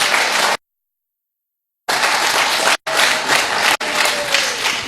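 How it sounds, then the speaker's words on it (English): A crowd at a Georgia runoff campaign victory rally bursts into loud, dense applause, in several sustained stretches broken by abrupt silent gaps. "Y'all give us a round of applause for them."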